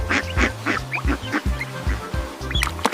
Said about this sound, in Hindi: डक को हिंदी में बतख कहते हैं